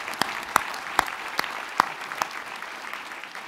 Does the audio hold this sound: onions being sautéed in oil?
no